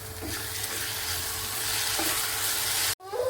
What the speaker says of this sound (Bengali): এক ছিটা গরম মশলা দিলাম দিয়ে ভালো করে কষে নেব